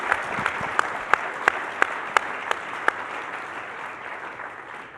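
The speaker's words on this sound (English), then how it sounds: "maybe if we could just give folks a round of applause from that entire group, that'd be great" Applause from a symposium audience at the closing of an energy transition conference, a soft, continuous patter of many hands with a few sharper, regularly spaced claps standing out above it.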